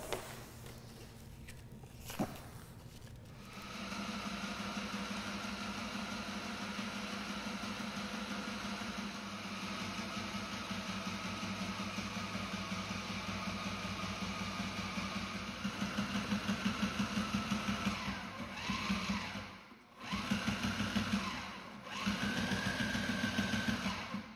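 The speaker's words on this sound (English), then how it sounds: "what I need to do is to sew a stitch on each edge of this tape" A sewing machine running steady stitches along reinforcement tape on a dinghy sail, a continuous even mechanical hum with brief pauses and restarts near the end, heard close and alone.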